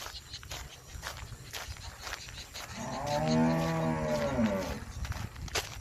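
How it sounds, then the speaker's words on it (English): A cow moos loudly in one long, drawn-out bellowing call near water on former sugarcane land in Georgetown, with faint footsteps and outdoor ambience around it. "No wonder the cow's crying."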